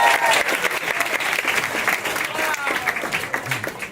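Audience applause at a book signing at a Chapters bookstore in Toronto: steady, dense clapping from a crowd, sustained and fairly loud throughout, with some voices mixed in.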